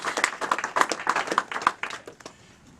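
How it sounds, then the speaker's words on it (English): Audience applause breaks out after a bead-string cutting trick at a small live show, a rapid burst of clapping that swells, then thins and fades over a couple of seconds. "Give him a big round of applause."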